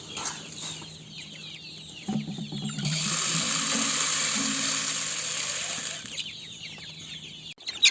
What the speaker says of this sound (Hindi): ये जो मुर्गियाँ हैं बड़े चाव से खाती है